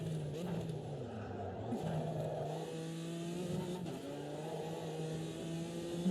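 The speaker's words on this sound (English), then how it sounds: "I'm hitting the rev limiter" Race car engine in the Automobilista 2 racing game, holding steady high revs with a sustained buzzing drone that bounces off the rev limiter, loud and continuous throughout with a voice talking over it.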